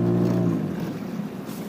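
Outboard boat motor running steadily and loudly close by, steered through a homemade one-handed throttle and reverse control, its hum shifting slightly as it settles.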